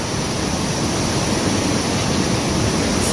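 Vernal Fall in Yosemite, below Nevada Fall, roars as a loud, dense, unbroken hiss of falling water that stays constant and fills the whole scene.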